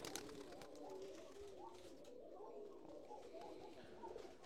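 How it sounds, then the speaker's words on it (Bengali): Pati Giribaj pigeons from Rajshahi, Bangladesh, just released, cooing in soft repeated phrases at low volume against light background noise, with a faint voice at times. "আপনারা দেখছেন রাজশাহী পাতিগিরিবাজ ছেড়ে দিয়েছি"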